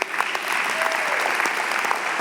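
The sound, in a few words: congregation hand clapping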